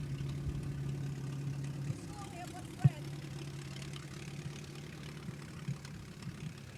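Case CC tractor engine idling steadily at a tractor parade, a low droning hum with one sharp knock partway through, heard under crowd background and talk.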